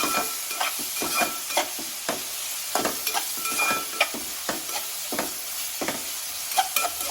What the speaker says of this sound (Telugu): ఆయిల్లో మగ్గనివ్వాలి మటన్ని.